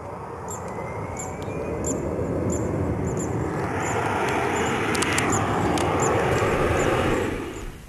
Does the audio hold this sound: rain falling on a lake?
no